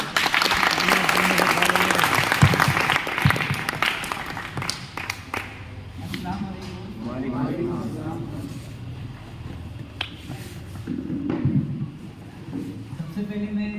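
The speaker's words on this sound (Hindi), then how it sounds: "जोरदार तालियां बजाओ।" Audience applause at a career guidance event in Ozar, Nashik, a dense burst of clapping at first that thins out, with voices and murmuring crowd noise underneath.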